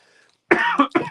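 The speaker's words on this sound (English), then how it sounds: "Sorry, I keep coughing, everyone." A person coughs during an online store item showcase, two or three sharp, close, loud coughs in quick succession after a brief moment of near silence.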